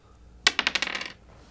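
Dice clatter across a table during a tabletop role-playing game, a rapid burst of sharp clicking bounces that settles within about a second, close and alone without talk.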